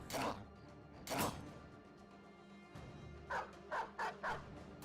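Dog barks from a war dog in Battle Brothers, two sharp barks followed by a pause and then a rapid run of four more, fairly close against quiet background game ambience.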